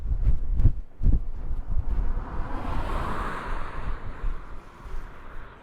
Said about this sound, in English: but you can also hear that it is a little bit windy now